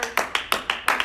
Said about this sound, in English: Guys, give yourself a round of applause.